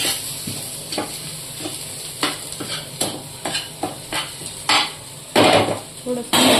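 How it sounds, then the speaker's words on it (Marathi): Onion and green chilli frying in a pan with previously fried boiled eggs, giving a steady sizzle punctuated by repeated stirring scrapes and clinks of a utensil against the pan, close and fairly loud with no talk. "ह्याच्यामध्ये कांदा, मिरची टाकूया, फ्राय करूया कांदा."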